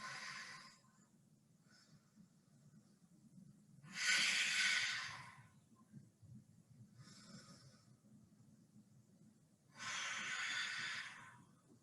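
Slow, deep breaths during a gentle yoga flow, drawn in long hissing waves roughly every three seconds, some soft and some stronger, close and quiet over a low background hum with no talking.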